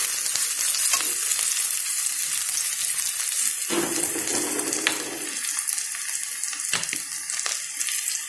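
Potato with onion, garlic and ginger frying lightly in a pan for a bread egg chop, giving a steady close sizzle with bursts of stirring and scraping throughout, and no talk.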